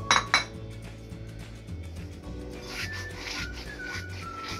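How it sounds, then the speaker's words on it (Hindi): Dry coriander seeds and cumin crushed and rubbed between the palms for a tawa-fried aubergine dish, a close, continuous gritty rustle with a few sharp clinks at the start. "ये मैंने 2 चम्मच खुश्क धनिया और ज़ीरा लिया है, इसको मैं इस तरह मरोड़ के थोड़ा सा इसमें शामिल कर दूँगी"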